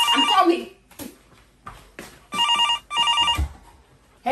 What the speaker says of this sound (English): Who is ringing my phone at this time?